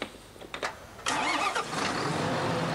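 A John Deere combine harvester's engine cranks over in a farming video game, giving a couple of short stuttering turns before catching and settling into a loud, steady running roar, with no one speaking.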